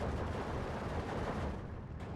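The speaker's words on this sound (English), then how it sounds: "Another artillery piece here hitting as well." Artillery fire rumbles through a Steel Division 2 battle, a dense, continuous roar of distant impacts and blasts layered over one another with no clear gaps, easing slightly near the end.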